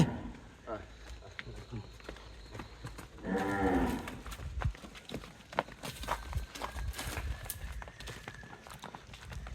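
Cattle at a livestock market in Naogaon being loaded onto a truck, with a clear moo partway through amid shuffling hooves, knocks and shouting handlers talking throughout.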